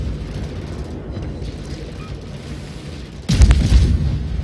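Dive bomber bombs exploding close to a warship in the naval battle game World of Warships, a sudden loud booming burst after a steady rumble of background battle noise.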